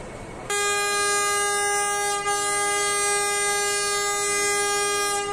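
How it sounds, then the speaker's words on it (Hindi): A metre gauge train on the 138-year-old Nepalganj section sounds its last whistle, one loud, sustained, steady blast held for about five seconds, close by with no talking. "और इस लास्ट विसल के साथ ही 138 साल पुराने इस मीटर गेज रेल सेक्शन के युग का अंत हो जाता है।"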